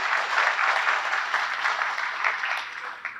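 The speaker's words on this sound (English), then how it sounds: "let's give it us a round of applause for the project update" Conference audience applauding after a talk: dense, even clapping from a room full of people, sustained and fairly loud for the whole stretch with no voices.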